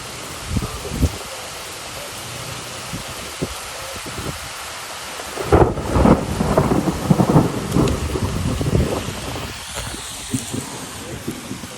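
An afternoon thunderstorm over Troy, Illinois, with steady rain and a loud rolling thunder crash midway that rumbles on for several seconds, plus a few softer rumbles before and after.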